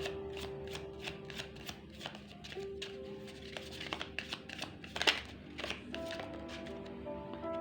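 Tarot reading cards being shuffled in steady bursts of close, crisp riffling and flicking, with brief pauses and a sharper snap near the end, over quiet background music.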